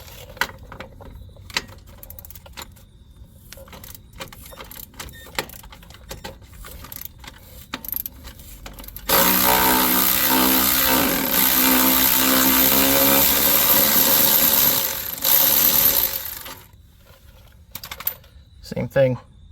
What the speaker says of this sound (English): we're going to get that second bolt out